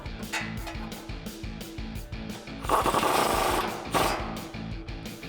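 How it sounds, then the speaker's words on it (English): A socket wrench tightens a factory castle nut with a 19mm socket on a 2005-2021 Toyota Tacoma front suspension stud during a lift kit install, giving a steady run of rapid ratcheting clicks with a denser burst midway. "We can take a 19mm socket and tighten that up"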